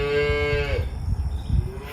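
A cow that has just calved lets out one loud, close moo lasting under a second, followed by low rumbling outdoor noise.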